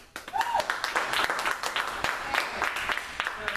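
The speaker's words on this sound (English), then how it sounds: "Round of applause." An audience at a live poetry event bursts into applause, a run of quick, close claps. Someone's voice sits briefly within the clapping and the clapping stays lively throughout.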